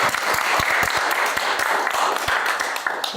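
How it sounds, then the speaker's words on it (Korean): Audience at a policy lecture forum on the real estate market applauds steadily, a dense wash of clapping with distinct sharp hand claps standing out throughout, close and fairly loud, with no talk over it. "박수 한번 일단 치고"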